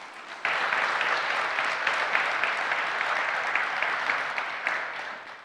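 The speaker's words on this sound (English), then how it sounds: "Just a big round of applause" A conference audience at the ETHSofia event gives a big round of applause: dense, steady clapping begins abruptly, holds at an even level for about four seconds, then thins and fades toward the end.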